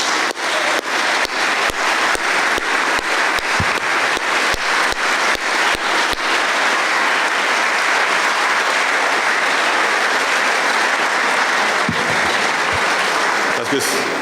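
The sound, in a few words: audience applause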